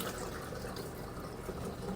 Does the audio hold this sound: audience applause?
no